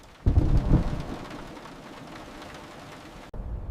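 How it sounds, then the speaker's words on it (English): Steady rain hisses over everything while a deep thunder rumble rolls in near the start and fades slowly, ending in a sudden cut to quieter rain. "Only the rain."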